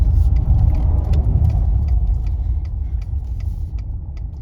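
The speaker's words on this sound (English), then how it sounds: "Got two cars behind us." Cars pass on a busy road near Rattlesnake Point in Rockport, Texas, a steady low rumble of tyres and engines that stays loud for the whole stretch and fades only slightly toward the end.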